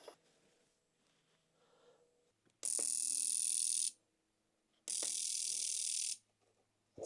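Fuel injectors from a 2013 Kawasaki KX250F buzz hard on a cleaner in two long loud bursts of rapid pulsing, split by quiet pauses filled with faint mechanical clicks.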